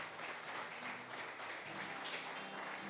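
A church congregation claps along during worship, a dense, steady wash of many hands filling the room for the whole stretch, with faint voices underneath.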